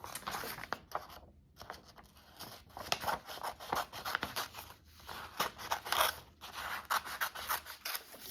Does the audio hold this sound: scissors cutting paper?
yes